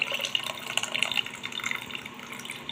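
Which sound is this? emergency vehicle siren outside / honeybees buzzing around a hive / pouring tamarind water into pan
pouring tamarind water into pan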